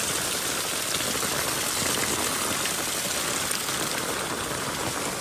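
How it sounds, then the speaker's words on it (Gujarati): Heavy rain pours down steadily in Morbi, Gujarat, a dense, even roar of drops drumming on surfaces with no break. "એટલો ફૂલ વરસાદ પડી ગયો છે"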